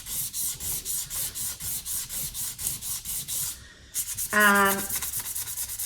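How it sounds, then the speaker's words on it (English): Sandpaper scrubs over a cured resin surface from an acrylic swipe pour, made faulty by silicone, in quick, regular back-and-forth strokes, loud and close. A brief spoken word and a short tonal buzz break the rhythm near the end. "I'm just going to go over those areas with some sandpaper."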